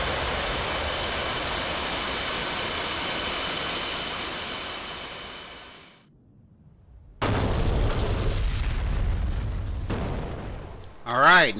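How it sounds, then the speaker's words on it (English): Bombs dropped on tanks during an F-14B Tomcat strike in DCS World, with steady jet roar that cuts out, then a loud sustained blast rumble and a final booming burst near the end. "It looks like that's number 2 dropping his bombs."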